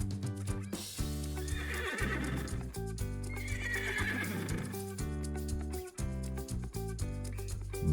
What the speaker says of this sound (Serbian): Bravo, to je konj.